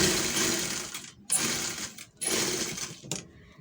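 A sewing machine stitches a straight seam in loud, close bursts, running for about a second at a time with brief stops in between, three runs in all.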